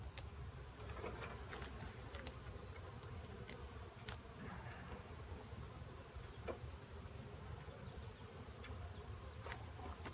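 Honey bees buzz as a steady, dense drone throughout an open-hive inspection, loud and close, with no talking.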